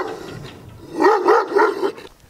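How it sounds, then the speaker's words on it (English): Dogs barking in residential yards in Miskolc, a quick run of four or five close, loud barks in a steady rhythm after a quieter lead-in, with no talk over them. "there's like a lot of dogs and they're always barking every yard"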